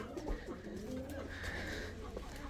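Hyderabadi blue pigeons coo in a cage, with soft, close, repeated throaty calls over a quiet background and a few faint rustles.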